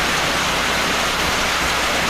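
Steady, dense hiss of rain falling during an outdoor American Legion baseball game, a loud unbroken wash of noise with no voices or other sounds breaking through.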